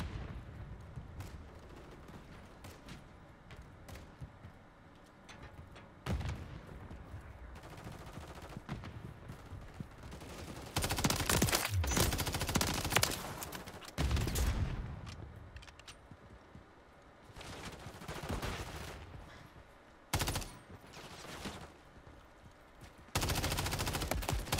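Automatic gunfire in Modern Warfare 3 on PC rattles in long, loud bursts separated by brief pauses, with booming impacts and other game noise throughout.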